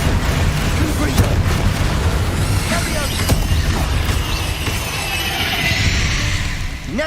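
Confringo spell blasts in Hogwarts Legacy, loud booming impacts and crackling bursts over a busy fight din, several hits landing in quick succession with debris-like rumble between them.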